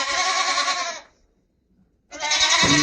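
Saanen goat kids at a livestock market bleat loudly up close, one long bleat, a second of quiet, then another starting.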